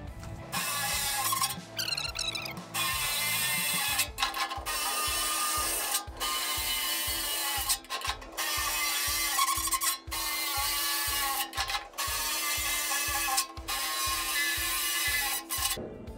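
A cordless drill with a half-inch bit bores holes in a metal burn barrel, a grinding, ratcheting chatter in a fast pulsing rhythm broken by short pauses between holes, loud and close, with no talk.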